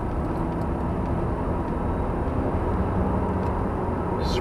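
A Fisker Karma at full throttle gives a steady, loud, broadband drone of road and wind noise with a low hum, continuous and without distinct engine revs.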